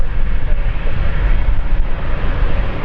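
A Cessna Citation CJ2 Plus (525A) business jet at London City Airport, heard as a loud, continuous broadband engine roar that stays steady and close the whole time, with no speech.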